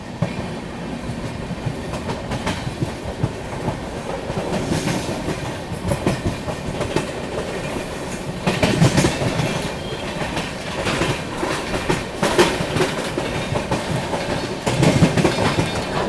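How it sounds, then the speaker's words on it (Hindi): A long-distance express train rolls through a railway station on the Delhi to Guwahati line, its wheels beating a steady clickety-clack over the tracks in a continuous close rumble, with no talk. "क्या ट्रैक साउंड आ रहा है।"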